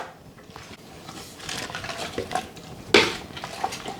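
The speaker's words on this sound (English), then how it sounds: "now I'm going to stir it all up" Beef stew being stirred in a pot, a spoon scraping and clinking against the sides in soft, irregular strokes with a sharper knock near the end, no voices over it.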